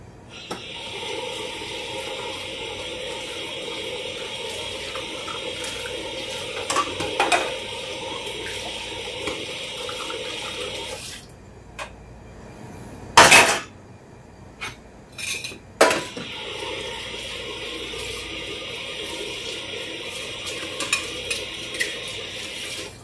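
A barista in a Saudi Arabian café washes cups and dishes at a sink under a steady running tap, with cutlery and crockery clinking throughout. A brief pause in the water comes near the middle, broken by a few sharp clatters before the tap runs again.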